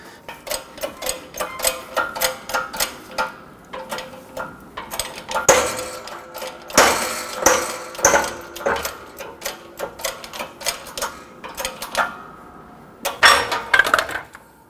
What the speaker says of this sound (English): I have a 34 millimeter socket that fits inside the bearing, and that's going to press the hub down